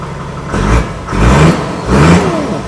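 Engine of a 1997 Toyota Land Cruiser VXR with a 4200cc turbo diesel, revved three times in quick succession, each rise swelling into a loud, deep roar before easing back, heard close with no talk.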